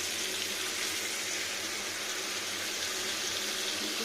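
Tap water runs steadily and loudly while a pot is washed under the faucet, a constant close rushing splash with no talking.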